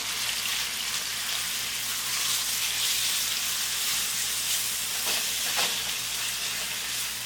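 Chicken frying in about three tablespoons of oil for fajitas gives a steady, dense sizzle and hiss throughout, with a couple of brief spattering bursts near the end and no talking.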